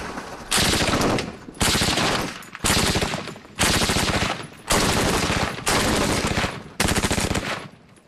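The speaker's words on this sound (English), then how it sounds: "This is the SAW, Squad Automatic Weapon. It can put down a lot of firepower very quickly." A SAW squad automatic weapon fires 5.56 rounds in seven loud, sustained automatic bursts, each lasting roughly a second. Brief gaps separate the bursts, and the report is close and sharp.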